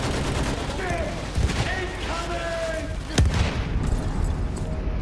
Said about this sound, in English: just in a few seconds I will be destroyed by artillery